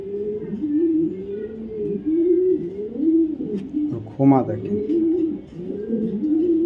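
A pair of red checker racer pigeons of a Python racing line coo in low, repeated rising-and-falling phrases close by, with someone talking over them throughout.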